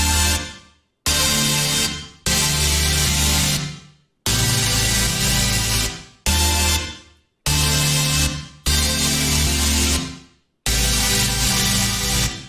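Layered hyperpop synth patch with multiband compression and stereo widening, playing in loud, full chopped bursts separated by abrupt silent gaps, each block fading slightly before cutting off.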